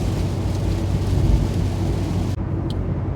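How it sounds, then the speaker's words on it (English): Heavy rain heard from inside a car driving on a highway near Davangere, India: a loud, continuous wash of noise over low road rumble that drops away abruptly partway through. "It has started raining quite heavily."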